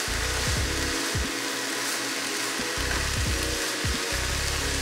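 Cauliflower fried rice stir-frying in a pan, a dense continuous sizzle broken by repeated scraping strokes of a utensil stirring the rice, no talking.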